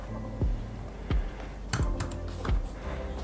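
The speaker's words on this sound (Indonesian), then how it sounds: "Kita coba pakai ngetik, pakai WPS Office." Typing on the detachable keyboard of an Advan Sketsa 3 tablet in WPS Office produces a handful of crisp, close keystrokes at an uneven pace, with a quick double tap near the middle.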